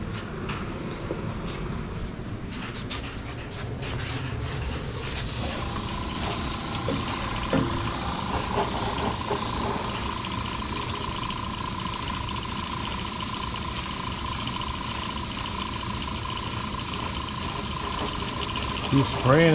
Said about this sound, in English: Keep spraying until it matches the surrounding color without running it